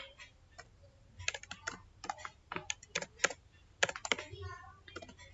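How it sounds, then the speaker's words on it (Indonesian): Someone types on a computer keyboard while entering a spreadsheet formula, with irregular bursts of close, clicky keystrokes over a faint low hum. "Kita ketik pemisah."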